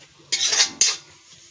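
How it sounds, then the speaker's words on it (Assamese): Jute leaves being stir-fried in a metal pan and covered with a lid, giving two loud, close scraping clatters of utensil and metal in quick succession against a quiet background. "এনেদৰে এতিয়া লৰাই লৰাই ভাজিম আৰু অলপ এনেদৰে ঢাকনি মাৰি দিলোঁ"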